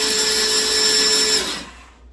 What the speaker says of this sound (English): I've drilled right into the stud.